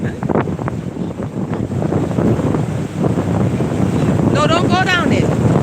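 High surf crashes and rushes against a beach under strong gusting wind before a storm, loud and continuous, with people talking over it.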